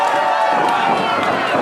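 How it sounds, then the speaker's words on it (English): A wrestling event crowd cheering at an independent match, a dense, loud roar of voices filling the short moment without a break. "Crowd's happy about it."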